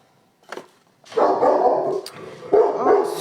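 A dog barks loudly and close by in an indoor home setting, a short yelp followed by two sustained bursts of barking.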